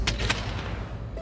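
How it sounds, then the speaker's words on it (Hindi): Firecrackers burst outside a home as celebrations go on, with a couple of sharp cracks early on over a steady rumbling background of continuing distant pops. "पटाखे कितने फूट रहे?"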